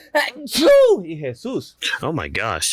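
A single loud, close human sneeze, quickly followed by people talking in surprise.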